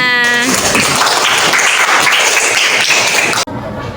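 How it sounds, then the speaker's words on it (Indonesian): Group applause in a coaching session classroom, dense clapping filling the clip from near, starting after a brief tone and ending abruptly, with a voice briefly audible under it. "Beri tepuk tangan untuk kita semua."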